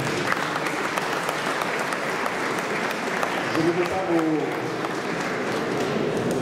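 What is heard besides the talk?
audience applause at a dinner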